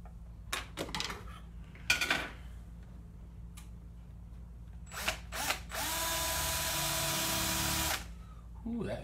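Scattered clicks and handling knocks, then a power drill whirs steadily for about two seconds, close by, drilling a base for a sculpture armature, before stopping.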